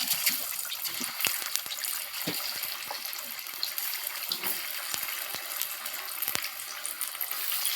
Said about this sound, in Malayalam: എണ്ണ നല്ല ചൂടായിട്ടുണ്ട്. അപ്പം നമുക്ക് പീസ് ഇട്ട് കൊടുക്കാം.